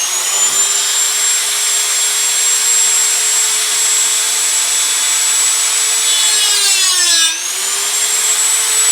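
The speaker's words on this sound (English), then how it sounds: "is to mark the shaft with your Dremel" A Dremel rotary tool marks the shaft of a 200/300Tdi VE injector pump, producing a loud, sustained high-pitched whine close by that dips in pitch briefly near the end as it bites into the metal, then recovers.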